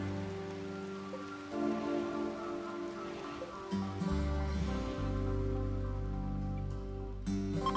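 Steady rain falls in the video game RimWorld, a soft constant patter layered beneath sustained tonal background music.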